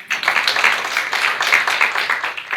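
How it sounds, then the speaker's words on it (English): An indoor audience at an entrepreneurs' conference claps for the MC, a dense, steady patter of many hands, fairly close, with a few faint voices mixed in. "And we should clap for our MC here."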